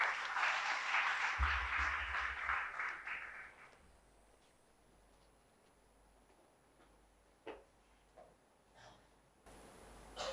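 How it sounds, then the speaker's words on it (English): An audience claps to welcome a speaker at a space science and technology seminar. The applause is dense at first, then fades out within a few seconds, leaving a quiet room with a few isolated taps. "let's welcome S.B. Gupta sir with a huge round of applause"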